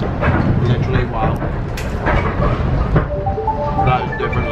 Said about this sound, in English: still on the train